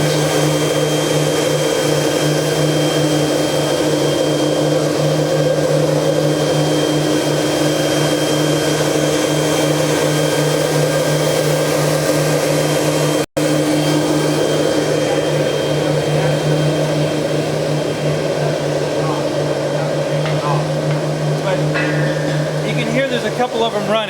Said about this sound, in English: These are the microturbines.